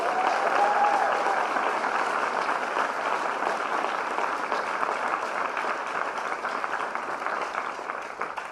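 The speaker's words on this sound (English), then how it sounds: "Can we give her one more round of applause?" A crowd at a CreativeMornings morning talk in New York applauds a performer of original songs, a warm, steady wash of many hands clapping that carries on evenly for several seconds and tapers slightly at the end.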